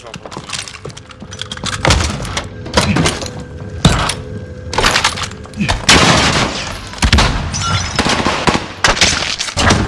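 Loud, close gunfire in the Call of Duty Warzone video game, repeated bursts of automatic shots with sharp impacts and breaking debris, mixed with game voice callouts.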